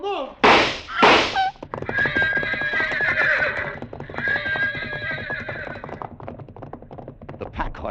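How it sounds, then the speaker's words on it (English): Radio-drama effect of pack horses rearing at gunshots: two loud sharp neighs open, then long shrill whinnies over clattering hooves and thumps, close and busy. "The pack horses reared at the shots."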